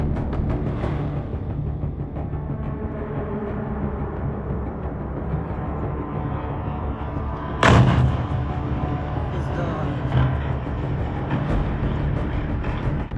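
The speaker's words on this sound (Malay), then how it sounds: "penduduk merakam dari tingkap sebuah drone melintasi langit. Perlahan, secara lurus, tanpa sesiapa menembaknya, dia turun ke atas gudang dan meletup" A drone strikes a warehouse in Saint Petersburg, a sudden loud blast cutting through steady low rumbling background noise, followed by a few fainter thuds.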